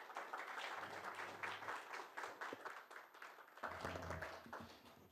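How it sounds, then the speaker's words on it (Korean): An audience at a naval-headquarters academic conference claps to welcome a professor to the podium, a steady moderate patter of many hands with a few faint voices and low tones in the background. "큰 박수로 환영해 주시기 바랍니다"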